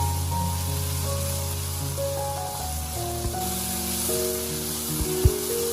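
Tomatoes stir-fried over high heat in a wok, a steady spraying sizzle that runs under tonal background music with a few soft knocks near the end.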